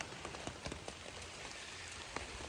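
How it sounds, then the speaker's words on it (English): Steady morning rain falls on a backcountry hiking trail along the North Country Trail in Michigan's Upper Peninsula, a soft continuous patter with scattered sharper drops landing close by. "Obviously rain this morning."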